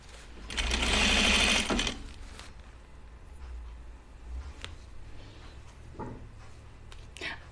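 A sewing machine loaded with top stitch thread for a prototype pair of jeans runs in one short, loud, close burst during a test, followed by quiet fabric handling and light clicks.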